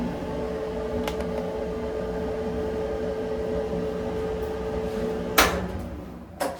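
A repaired electric clothes dryer runs smoothly with a steady, even hum and drum rumble, no bumping, heard alone, with a sharp clack near the end and another small knock just after.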